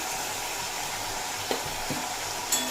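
Chopped onion, ginger and green chilli fry in hot oil with a steady, close hiss, broken by a few soft scrapes and taps of a stirring utensil against the pan.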